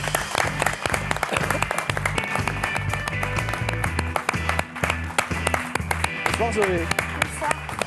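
An audience at an evening literary reading event applauds a young reader, with clapping mixed among voices and low background sound that continues throughout, people talking over it.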